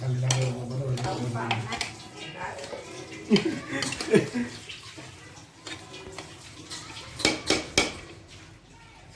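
Dishes and cutlery clink as mutton pulao is served onto a plate in a home kitchen, with a few louder clatters and people talking in the background.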